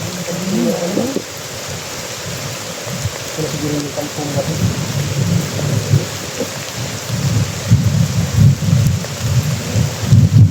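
Heavy rain pours in a dense, constant hiss while low thunder rumbles and swells underneath, growing stronger toward the end.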